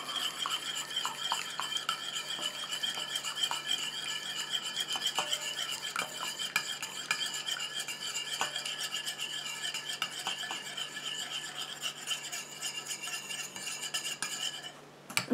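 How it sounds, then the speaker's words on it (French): A utensil stirs a cream emulsion in a small container, giving a steady, soft scraping and clinking that continues alone, quiet and close, for the whole stretch. "Je continue à mélanger comme ça jusqu'à ce que mon émulsion épaississe et refroidisse."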